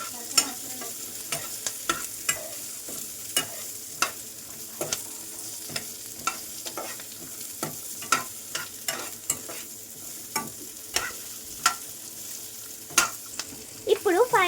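Vegetables for nalleru pachadi cook in a pan, stirred with frequent sharp scrapes and knocks in an uneven rhythm over a low, steady frying hiss.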